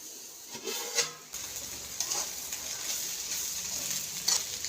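Beef with black pepper stirred and fried in a pan gives a soft, steady sizzle with a couple of sharper scrapes and clinks from stirring, fairly quiet and without talking.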